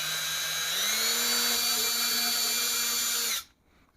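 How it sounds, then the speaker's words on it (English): A power drill whines steadily while boring a hole for a DIY automotive smoke machine, its pitch rising slightly early on, then cutting off abruptly at the end with near silence after. "now that we have those 2 holes drilled, we can go ahead and start drilling the other ones"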